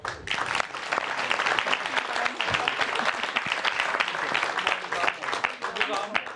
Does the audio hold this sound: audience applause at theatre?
yes